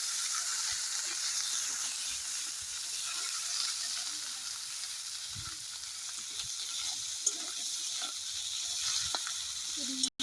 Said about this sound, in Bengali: এই কাঁকড়াটা এবার দিয়ে দেবো। কড়াই তেলটা গরম হয়ে গেছে